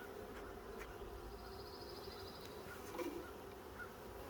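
Honeybees humming at an open hive during a backyard inspection, a faint continuous drone with a brief higher whine passing through, low and close against quiet surroundings.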